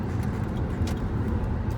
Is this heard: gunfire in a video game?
no